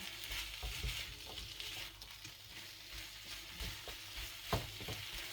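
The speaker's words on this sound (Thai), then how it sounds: "เดี๋ยวเราจะคั่วก่อนนะ" Southern Thai curry paste dry-roasts in a pan for a pork-bone coconut curry, giving a steady close sizzle with scattered scraping clatters from stirring and one sharper knock near the end.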